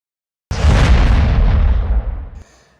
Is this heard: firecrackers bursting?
yes